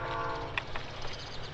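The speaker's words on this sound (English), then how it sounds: "I'm pretty sure I just heard a train." A distant train horn, heard from indoors with no railway nearby, sounds once as a brief faint blast over low steady background rumble.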